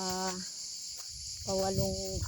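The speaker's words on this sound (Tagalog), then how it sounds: "maririnig mo yung sound ng kuliglig" Crickets chirp in a continuous high, shrill drone in a quiet mountain setting, steady throughout while a person speaks softly over it.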